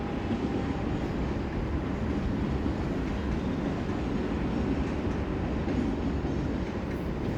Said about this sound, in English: and our train is going there, see.